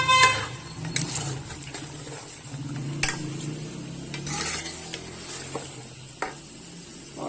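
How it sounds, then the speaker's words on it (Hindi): Tomatoes are stirred into a hot pan over high flame for spicy garlic beef, giving a steady close sizzle with repeated scraping strokes and occasional sharp knocks of the spoon against the pan. "अब इसके अंदर शामिल करेंगे टमाटर, फ्लेम कर देंगे"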